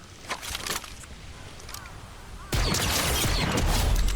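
Gunfire in the game Fortnite crackles in scattered bursts, then a louder, dense rattle of shots begins abruptly and continues to the end.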